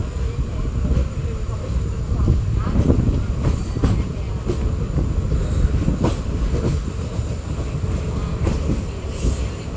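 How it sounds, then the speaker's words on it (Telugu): A Madurai to Rameshwaram passenger train pulls away after a short halt, with steady rumbling and rhythmic rail clatter heard from on board, loud and continuous throughout. "1 నిమిషం హాల్ట్ తర్వాత మన ట్రైన్ తిరిగి బయలుదేరింది."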